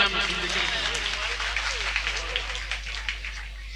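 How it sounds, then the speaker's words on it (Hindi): Steady applause from an audience at a village poetry gathering (kavi sammelan), a dense patter of many hands clapping at moderate distance, with voices talking over it. "एक बार जोरदार तालियां मिथुन जी के।"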